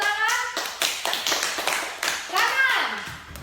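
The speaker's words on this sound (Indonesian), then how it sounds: "Tepuk tangan." Children in a classroom clap their hands in a few quick bursts on a teacher's cue, the claps sharp and fairly near, with a woman's and children's voices talking over and between them.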